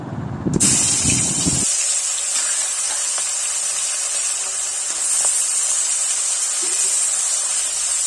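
Heads of large tengra fish hit hot oil with a sudden burst, then settle into a loud, even, close hiss of frying that holds steady throughout.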